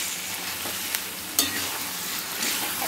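Fried mushrooms cooking down with capsicum and onion in a pan, giving a steady, hissing sizzle throughout, with a couple of soft stirring knocks near the start and middle.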